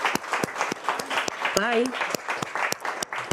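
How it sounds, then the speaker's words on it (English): At a cardiovascular science meeting, an audience gives the keynote speaker a round of applause, sustained clapping under which a person briefly talks. "a round of applause, please, for our keynote speaker"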